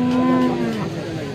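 A cow moos at a cattle market, a single loud, close low call that trails off within about a second, with no talk over it.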